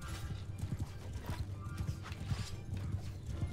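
Hoofbeats from horses galloping across a battlefield in Mount & Blade II: Bannerlord, a fast steady clip-clop of several mounts with an occasional whinny, continuous and fairly close under mixed game battle noise.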